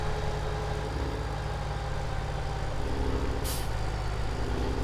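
Case IH Magnum tractor engine in a farming video game, a steady loud diesel drone running unbroken throughout, with a brief hissing burst near the end.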